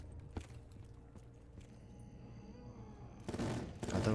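Gunfire in a custom zombies shooter game set on a bus depot map: a single sharp shot early, then a louder, dense burst of firing over the last second amid a steady game background.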